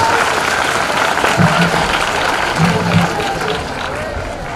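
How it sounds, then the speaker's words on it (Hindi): Audience applause at a students' Youth Parliament event at Kendriya Vidyalaya No. 1 Jhansi Cantt: sustained, dense clapping from a large crowd filling the room, loud and steady, with voices mixed in. "एक बार जोरदार तालियां बजाइए इन सभी के लिए"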